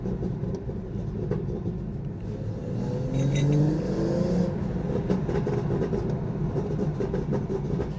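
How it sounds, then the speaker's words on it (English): BMW B58 engine on overrun, heard from inside the car with a window down, a steady low rumble and drone carrying through at moderate loudness for the whole stretch, with occasional faint crackly burbles mixed in. "we should actually hear a few kind of burbles out the window"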